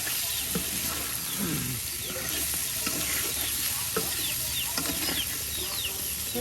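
Garlic and onion paste fries in a pan, with a constant crackling sizzle broken by repeated scraping stirs of a spoon; faint bird or chicken calls sound in the background of an outdoor kitchen.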